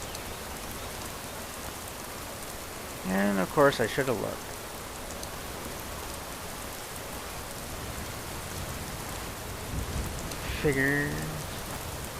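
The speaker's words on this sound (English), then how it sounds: "And here's the rain." Steady rain falls throughout in the video game Skyrim, an even hiss of drops on surfaces, with a voice talking briefly over it twice.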